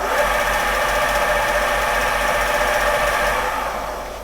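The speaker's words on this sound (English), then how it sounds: "So I'll restart the motor." The governor-controlled motor of a Creed 7B Mark 1 teleprinter runs with a steady, loud mechanical whir and a low rhythmic pulsing. It holds even for about four seconds, then begins to fade, with no voices.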